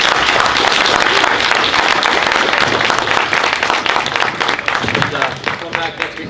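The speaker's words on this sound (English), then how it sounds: "Give these guys a round of applause." Loud round of applause from an audience at an evening meeting, dense clapping throughout, with a voice talking over it as it thins toward the end.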